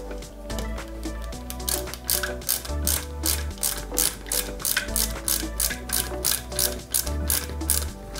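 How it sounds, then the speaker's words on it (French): Small screws being driven into a 1/8 scale Mercedes-Benz 300 SL model kit, giving a steady run of close, rapid ratcheting clicks from a hand screwdriver with short pauses between turns. "à l'arrière, on y met nos deux vis"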